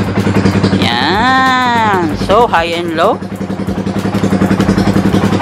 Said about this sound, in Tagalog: Dapat naka-andar yung motor.